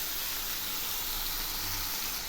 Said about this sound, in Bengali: এবার আমি এর মধ্যে দিয়ে দিচ্ছি কুচিয়ে রাখা শাকগুলো।